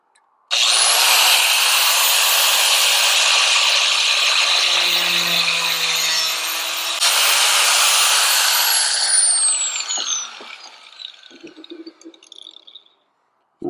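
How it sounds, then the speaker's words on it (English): Angle grinder fitted with a cutting wheel slicing around a piece of metal on a tractor implement, a loud, steady high-pitched whine held for about ten seconds before spinning down, close up and with no voices. "I'll use a cutting wheel on my grinder, and just to kind of go around this"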